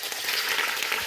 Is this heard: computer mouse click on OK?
no